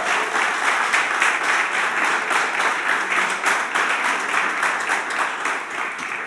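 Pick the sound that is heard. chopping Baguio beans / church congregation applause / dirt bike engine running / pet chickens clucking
church congregation applause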